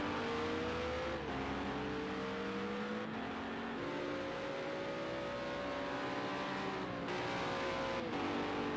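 Race cars on a circuit during a race drone steadily at high revs, engine pitch rising and dipping through gear changes as cars pass, a continuous loud mechanical roar with no talk.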